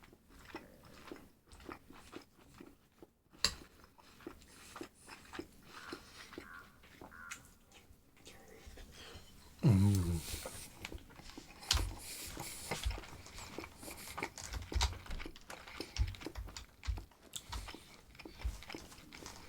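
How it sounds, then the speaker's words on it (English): Close, crunchy munching and chewing of food with diced onions, vinegar and dried chilies, with bites in irregular bursts that grow louder partway through, no speech. "sorry for the little munching noises, but I just have to"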